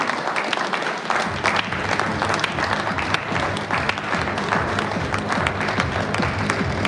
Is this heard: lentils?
no